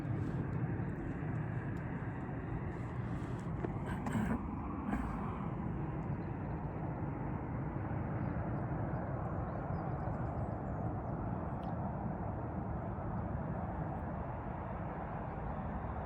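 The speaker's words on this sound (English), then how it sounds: "There's been so many noisy planes today as well." A continuous low roar of a passing airplane overhead, broad and rumbling, steady for the whole stretch with a few faint clicks early on.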